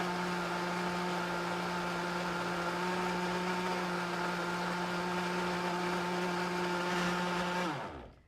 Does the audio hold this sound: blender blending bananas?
yes